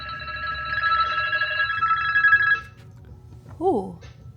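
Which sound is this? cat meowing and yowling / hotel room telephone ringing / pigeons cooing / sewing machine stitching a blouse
hotel room telephone ringing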